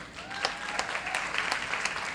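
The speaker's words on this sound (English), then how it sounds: "I think that's a thank you clap" An audience claps in thanks at a performing arts awards ceremony, honouring Olympic athletes. The applause is moderate and steady over a short stretch, with a few sharper claps standing out and a faint murmur beneath.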